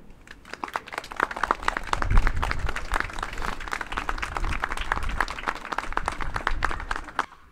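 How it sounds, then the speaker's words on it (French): Audience applause at an inauguration ceremony for a restored rooftop rooster weathervane, a steady round of many hands clapping throughout, moderately loud and fairly close, with no voices over it. "donc pour Pierre et Sébastien et Karine, s'il serait possible de les applaudir."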